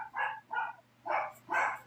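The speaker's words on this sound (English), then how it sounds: "Now I can hear Chip barking" A pet dog named Chip barks indoors, four separate bright barks in an uneven rhythm across a couple of seconds, heard from a little way off over a low steady hum.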